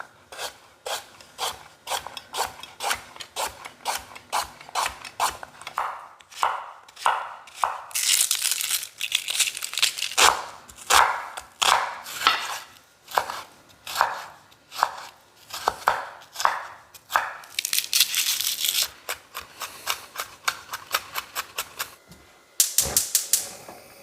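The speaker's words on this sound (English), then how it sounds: "let's chop the vegetables." Knife chopping vegetables on a cutting board for budget family meals, a long run of sharp, evenly spaced chops close up, some faster bursts in between, with no talking.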